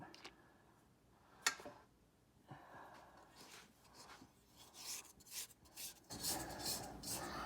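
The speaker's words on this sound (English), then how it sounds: "we need to lift this guy up and scrape the bowl down" A spatula scrapes down the sides of a mixing bowl of cinnamon sugar cookie dough, giving soft intermittent rubbing and scraping strokes with a sharp knock early on and busier scraping toward the end.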